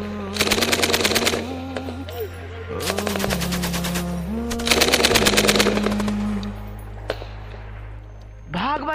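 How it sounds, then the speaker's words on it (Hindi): Sustained bursts of rapid automatic gunfire, three long volleys and a few single shots, loud and close over a low droning background. "भाई गोली चल रहा है"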